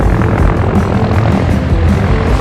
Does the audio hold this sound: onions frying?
no